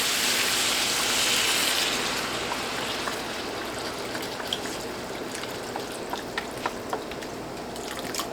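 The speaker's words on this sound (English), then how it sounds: "Put some beef broth in here." Beef broth pours into a pot for chili spaghetti, a continuous close liquid stream that starts strong and splashy and settles into a softer steady pour with scattered drips.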